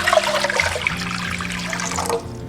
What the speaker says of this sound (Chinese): 锅中加入清水，